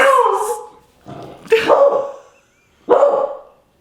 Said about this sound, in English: I would have sworn that's why she was barking